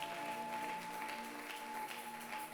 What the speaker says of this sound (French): Applaudissons l'Éternel des armes.